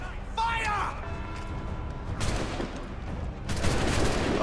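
A volley of musket gunfire erupts after a shouted order in Assassin's Creed III, dense crackling shots bursting in two waves, loud and close, with a voice heard early on.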